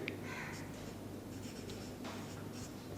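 Chalk or pen scratching steadily across a board as a chemistry equation is written out, faint and continuous with small bursts of strokes, alone without speech.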